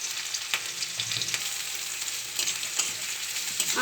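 Nigella seeds with finely chopped chilli and onion fry in hot oil for a fish-in-poppy-seed curry, giving a steady close sizzle with occasional stirring scrapes and no voices.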